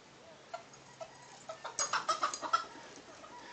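A chicken clucks in a quick series of soft, close calls that build into a burst of rapid clucking, then fade into quiet background.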